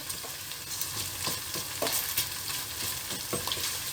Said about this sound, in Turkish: Onu da güzelce karıştırıyoruz. Salçamızın kokusu çıkana kadar, iyice kızarana kadar.